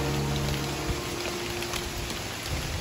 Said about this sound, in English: it has been raining all night